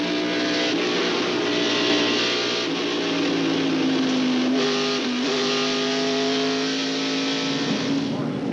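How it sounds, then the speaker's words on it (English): A NASCAR Winston Cup stock car at Atlanta during the 1995 Purolator 500, heard from inside the car as it comes off a corner: a loud, steady engine roar that shifts pitch as it accelerates, with a voice talking over it. "listen as Mark comes off the corner and sees a 98 car crash"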